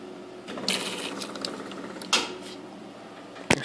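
Accelerator pump on a two-barrel carburetor squirting fuel during cleaning: a few short, close bursts of spray and mechanical clicks, with a sharp snap near the end, no talk.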